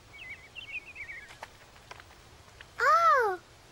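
Cartoon birds chirp in a short, high twittering phrase, followed by a few faint clicks and then a louder, sweeping warbling call near the end.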